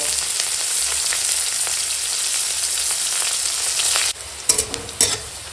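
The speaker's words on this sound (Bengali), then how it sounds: "পেঁয়াজ কুচো কাঁচা লঙ্কা ছেঁড়া দিয়ে এখন ভেজে" Chopped onion and torn green chillies frying in oil in a pan, a loud, close, continuous sizzle with light stirring, then quieter bursts of scraping and clatter near the end.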